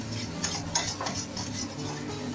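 A spoon scrapes and stirs mushroom masala in a kadhai over full flame, steady rhythmic scraping against the pan with a soft sizzle beneath, close and continuous.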